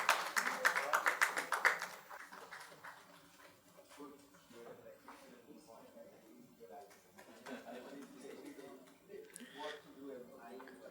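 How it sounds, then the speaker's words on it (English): A seated audience at an organization development panel claps for the panelists in a brief, sharp burst of many hands lasting about two seconds, then fades as a voice starts talking. "Please give a huge round of applause to all our panelists for sharing their expertise"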